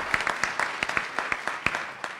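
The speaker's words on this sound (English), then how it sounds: "Let's give a round of applause to Steve." Light, clearly separate claps from a small crowd at a government investment announcement in West Louisville, a quick irregular patter of close hand claps lasting about two seconds.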